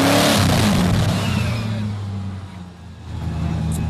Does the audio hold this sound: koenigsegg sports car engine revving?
yes